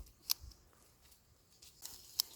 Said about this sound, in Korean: 싹둑 싹둑 싹둑 싹둑 싹둑 양손 가위로 하시면 더 빨리 하시겠죠.